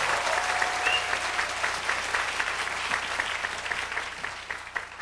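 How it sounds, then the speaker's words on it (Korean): Steady applause from an audience at a Korean church retreat lecture, a dense continuous wash of many hands clapping throughout, moderately loud and without talk. "Thank you for your applause."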